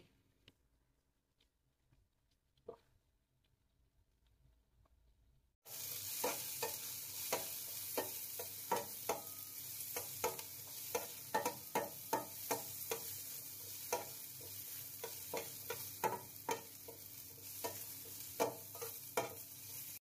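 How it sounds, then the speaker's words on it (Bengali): After a few quiet seconds, soaked cashews and raisins hit hot ghee in a pan and a strong, steady sizzle begins, punctuated by repeated sharp taps and scrapes of stirring. "অল্প ঘি দিয়ে আমি কাজু কিশমিশটা ভেজে নেবো"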